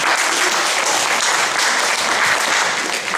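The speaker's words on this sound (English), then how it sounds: "Give your hand an applause." Sustained, dense applause from a large audience fills the whole stretch at steady loudness, with a faint crowd murmur under it.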